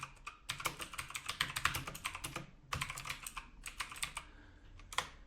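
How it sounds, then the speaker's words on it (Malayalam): Typing on a computer keyboard while writing notes, quick irregular bursts of close, crisp key clicks with short pauses between runs, no talking. "ഇങ്ങനെ ടൈപ്പ് ചെയ്ത് പോകാം."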